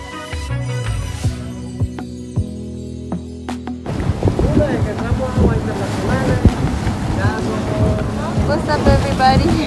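Boat engine hum with loud, buffeting wind noise across the microphone, following a few seconds of quieter clatter and tones before the ride starts.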